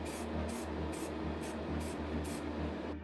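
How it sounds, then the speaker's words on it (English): Short bursts of aerosol spray paint, Peugeot Iron Grey, coat toy car wheels: about six even hisses in a steady rhythm, close up over a low background hum, with no talking. "I spray these in my recently acquired Peugeot Iron Grey paint to match their shade."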